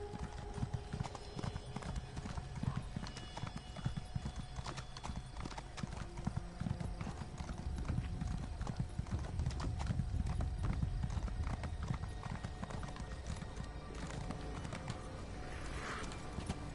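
Horse hooves clip-clopping at a steady pace in the video game ESO: Morrowind, a continuous rhythmic patter over a dense game soundscape with faint background ambience throughout.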